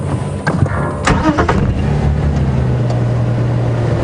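A safari vehicle's engine turns over and catches at Djuma Game Reserve, a brief cranking burst followed by a close, steady idling rumble that settles into a low hum.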